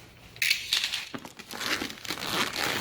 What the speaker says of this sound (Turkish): Baltamızın baltamızda aynı şekilde bir poşet kap var. E, onu açacağız.